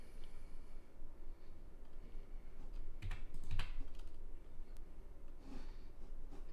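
Computer keyboard keystrokes pressed as a shortcut in a music notation editor: a few quiet, sharp clicks clustered near the middle over a low steady room hum.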